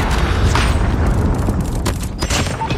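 A predator missile strike detonates in a multiplayer shooter game match, a loud, dense, sustained rumbling boom with crackling bursts running throughout, close and heavy.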